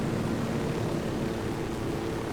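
A helicopter in Ghost Recon Wildlands flies with a steady, dense engine and rotor drone, constant and fairly faint, with no voices.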